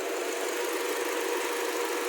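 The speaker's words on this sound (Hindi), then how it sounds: "हमारा इंजन कैसे मिस फायर मार रहा है, हिल रहा है।" A Hyundai Verna engine idles with its check-engine light on while misfiring and vibrating, a close, steady mechanical drone with a couple of faint dips in its low thump.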